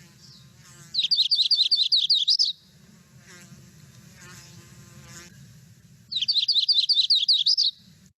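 Yellow-rumped warbler song plays twice, each a bright, high, rapid trilled phrase of about a second and a half, separated by a gap of faint background noise. It is clear, close and with no talking.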